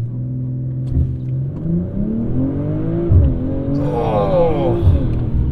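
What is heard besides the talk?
BMW M340i accelerating hard from a standstill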